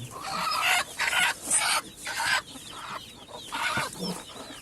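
A brooding hen clucks near her newly hatched chicks in a series of loud, close, raspy bursts. Thin, high peeps from the chicks chirp in the gaps between the clucks.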